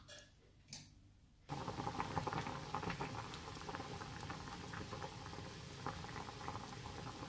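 Water comes to a rolling boil in a pot while a weight-loss belly fat drink cooks. After a quiet first second and a half, dense, steady bubbling and popping starts up close and continues without a break.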